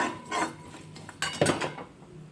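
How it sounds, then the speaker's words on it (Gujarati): A spoon scrapes and clinks against a pan as whole spices are stirred, giving a few light metallic taps and scrapes at moderate volume with no talk. "હવે બધું આપણે ખડા મસાલાને મિક્સ કરી લઈશું"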